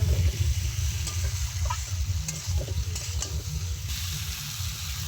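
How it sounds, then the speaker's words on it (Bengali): Pre-fried potatoes and whole pointed gourd sizzle in spice paste in oil while being stirred and tossed. The frying is loud and close, with a low bubbling rumble, scraping strokes and a few light knocks against the pan, with no voices. "এবার আমি দিয়ে দিচ্ছি আগে থেকে ভেজে রাখা আলু পটল আর একবার খুব ভালো করে কষিয়ে নেব"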